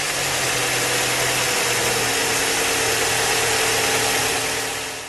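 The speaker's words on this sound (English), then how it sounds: "we can then start the engine." An engine runs steadily at idle with a loud, broad rumble and constant hum throughout, fading slightly at the end.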